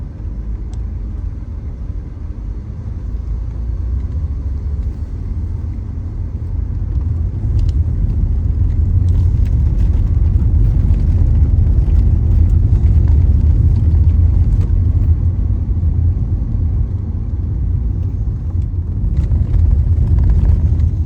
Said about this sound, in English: Let's go for a quick ride in the 1991 300 SL Mercedes.